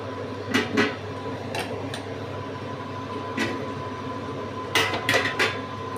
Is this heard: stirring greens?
yes